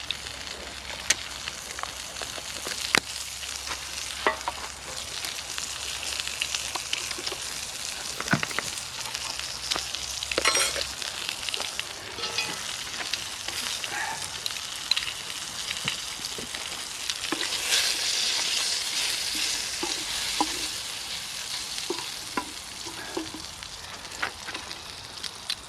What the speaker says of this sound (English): they're just getting the bacon on